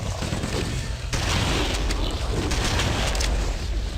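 Gunfire from a large firefight between Covenant forces and Sentinels in Halo: Combat Evolved on the original Xbox, on Legendary difficulty. The shots come as a steady, loud, continuous barrage with no voices over it.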